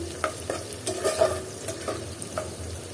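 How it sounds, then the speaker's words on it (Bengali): A spoon stirs rita fish heads frying in a little oil, with intermittent scraping and shuffling strokes riding over a continuous close sizzle. "আর এটাকে আবার এখন নেড়ে চেড়ে দিচ্ছি"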